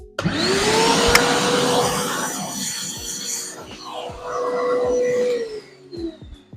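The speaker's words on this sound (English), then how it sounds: "Vacuum." A vacuum cleaner starts with a rising whine, runs loudly for a few seconds, then dips and surges again before shutting off, with thumps throughout.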